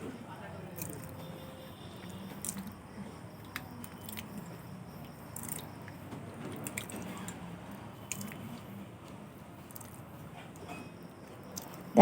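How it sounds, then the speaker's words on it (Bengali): Ripe bael fruit pulp mixed with water is squished and squeezed by hand to pull out the seeds, giving soft wet squelches and faint drips, close and quiet, with occasional small clicks. "এখন আমি এভাবে করে বীজগুলো সব বের করে নেব।"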